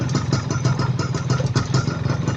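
A GTO 125 motorcycle engine runs steadily close by while being shifted down through the gears to neutral, a continuous throbbing idle with rhythmic pulsing and no speech over it.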